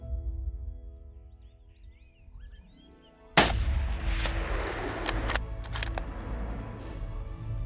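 A single loud rifle shot cracks out mid-clip while hunting a blue wildebeest bull in the bush, after a quiet stretch with birdsong, followed by a rolling echo and a few faint knocks and rustles.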